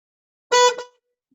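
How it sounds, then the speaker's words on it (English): A single short car horn honk from a Plymouth Prowler, loud and close, lasting under half a second against silence. "Let me hear the horn."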